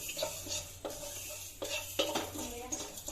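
Fenugreek seeds dry roasting in a pan over low to medium flame, heard as repeated metallic scrapes and clinks of a spoon against the pan with a faint rattle, no speech.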